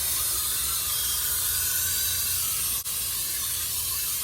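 Brake cleaner sprays in a steady, continuous hiss onto the gear housing and pan of a K1500 during a rebuild, flushing out old gear oil, with one brief pause near the end before the spray resumes.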